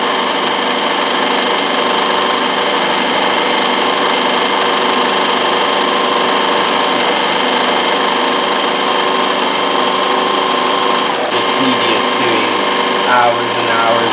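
A Consew CN2053R-1A industrial sewing machine driven by a servo motor runs flat out, giving a loud, steady, high-pitched mechanical whir that holds unbroken for the whole stretch and ends with a brief change near the finish.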